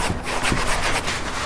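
A cloth rubbing grease and wax remover into the headliner of a Mazda RX3, working one small wet section with quick back-and-forth scrubbing strokes, close and steady.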